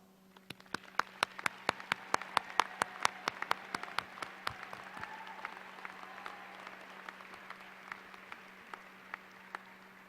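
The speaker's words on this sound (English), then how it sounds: "Please join me in applause." A commencement ceremony audience claps, sparse at first, then swelling into a dense, fairly distant round of applause that thins out toward the end, with a low steady hum under it.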